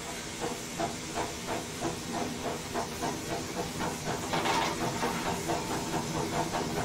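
The blower on a Merchant Navy Class steam locomotive in Train Simulator 2020 hisses continuously, with a faint rhythmic chuffing pulsing underneath at a steady pace.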